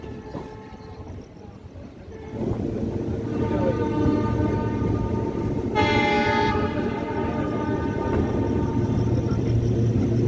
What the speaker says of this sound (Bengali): সামনে থেকে ছুটে আসছে Dhanbad Howrah black diamond express